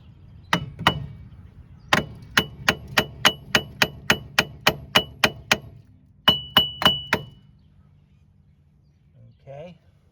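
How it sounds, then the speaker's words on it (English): A rear brake drum on a 1986-1991 Buick LeSabre being tapped with a hammer, sharp metallic strikes in a quick steady series, a pause, then a few more, and a faint voice at the end. "We're going to tap it on this edge right here, and then we're going to tap it on this edge right here."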